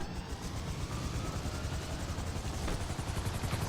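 A helicopter in Grand Theft Auto V gives a steady, fairly quiet rotor drone with a fast chopping pulse and a whining hum, heard alone throughout.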